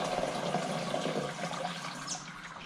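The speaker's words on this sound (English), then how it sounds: "I'm going to put in about half the amount of water that I need." Water pours steadily into a garden sprayer tank being filled for a plant growth regulator and fertiliser mix, a continuous close gurgling splash that stays fairly even throughout.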